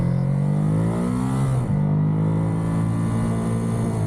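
A 2023 Ducati Monster 937 engine pulling hard in sport mode, a loud steady drone with one quick shift dip midway before climbing again, heard from the rider's position.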